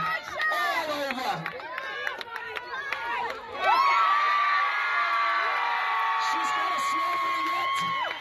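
A crowd at a chili eating contest in Wales cheers and whoops, with shouts and children's voices, swelling into sustained loud cheering partway through, while an announcer talks over it.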